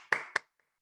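A single person gives two sharp, loud hand claps about a quarter second apart, followed by two faint tiny taps and near silence.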